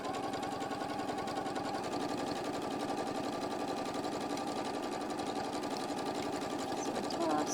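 A sewing machine runs a long continuous line of top stitching through layered fabric pieces, a rapid even needle chatter close and steady throughout.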